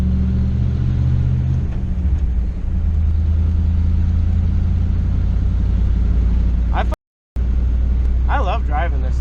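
A Ford pickup with a screw cab and long box, fresh from a brake line repair, drives along with a steady loud engine drone and low rumble, pulling in gear, while someone talks briefly near the end.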